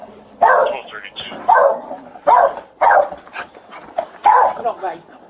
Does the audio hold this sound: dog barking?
yes